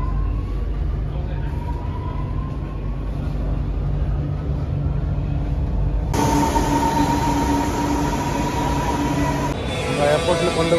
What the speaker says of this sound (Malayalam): എയർപോർട്ടിൽ കൊണ്ടുവിട്ട മെട്രോ പോയി